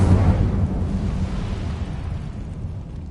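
A fire spell, Incendio, cast in a Harry Potter video game: a loud whooshing burst of flame that flares up right away and then fades into a softer roar over a few seconds.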